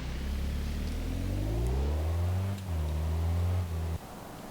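In BeamNG.drive, a simulated ETK 854td diesel car pulls away, its engine droning loudly and rising in pitch through a gear, briefly dipping, then climbing again before cutting off abruptly.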